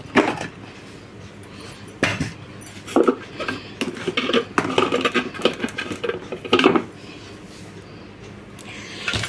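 Parts of a Philips food processor's vegetable cutter attachment being pushed and fitted into place, giving irregular plastic clacks, knocks and rattles close by, in bursts with brief pauses.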